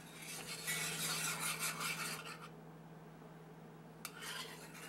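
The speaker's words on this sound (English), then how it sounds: "just keep mixing in the broth to make sure it's at the right consistency" Gravy being stirred with broth in a cast iron pan gives a close, scraping rub for about two seconds, then falls quiet before a brief clink and another short scrape.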